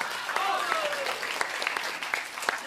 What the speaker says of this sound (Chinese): 大伙儿您再受受累，鼓鼓掌